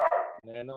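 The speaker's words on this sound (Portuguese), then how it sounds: "tem os cachorros latindo aqui" Dogs barking at a house, a few sharp barks early on, fairly close, with a voice talking over and after them.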